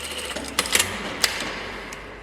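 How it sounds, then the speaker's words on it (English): A sewing machine runs a stay stitch across shirt pleats with a steady close mechanical whir, punctuated by a few brief clicks, alone without talk. "we're just going to do a stay stitch to keep those pleats down"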